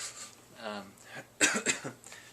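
A few sharp coughs, a tic, burst out near the end, close and forceful, after a stretch of soft breathing and throaty noises.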